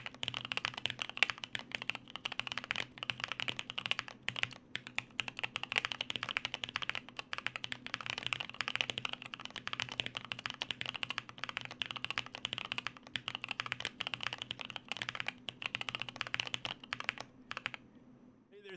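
Steady fast typing on a JP-02 prototype mechanical keyboard fitted with tactile EuraPSD switches, crisp close keystrokes running continuously with no voices.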